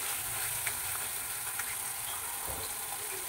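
Spice paste being stirred as it fries in oil in a pan for Bengali mustard pabda fish curry, a steady soft sizzle with faint scraping strokes throughout, with no voices.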